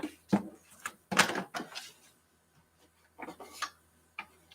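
Short, irregular squeaks and creaks come in scattered bursts on a cold day, fairly quiet with silent gaps between them and no talking.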